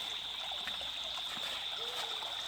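Water runs steadily while callaloo greens are washed, making a continuous close trickle and splash with no pause.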